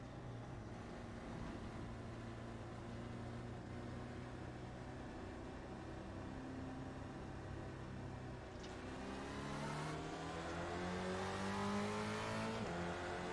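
Spec Racer Ford race cars at a rolling start on the Oulton Park circuit in iRacing, engines droning in a steady pack before revving harder and climbing in pitch toward the end, loud and continuous with no talk.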